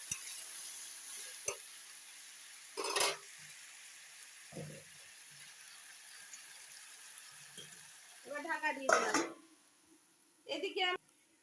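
Pumpkin curry stirred in a karai, with a few separate bursts of scraping and clattering spaced across a mostly quiet stretch, the last two busier and louder.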